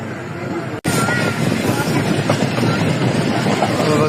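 A Pakistan Railways passenger train rolls into Wazirabad Junction station with a steady rumble and wheel clatter, heard from inside the carriage with voices murmuring in the background.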